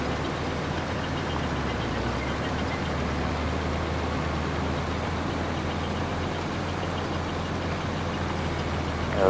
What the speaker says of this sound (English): this is a fairly small little tractor